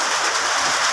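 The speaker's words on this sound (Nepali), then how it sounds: "यहाँ त पानी असिना पानीले यहाँ गाईपुर भन्ने ठाउँमा सबै पानी गइरहेको छ" Hail and rain pour down steadily in Gaighat, a dense, even hiss of drops striking surfaces with no breaks and no voices.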